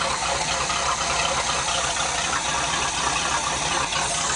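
A Chevy K20 truck engine running with an exhaust leak, heard as a continuous loud rough rumble with hissing and rattling, steady throughout with no talk.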